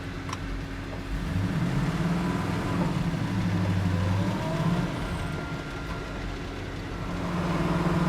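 A 1969 Chevrolet Camaro Z/28 gives a steady engine drone with low rumble from inside the cabin while driving, the pitch shifting as it moves.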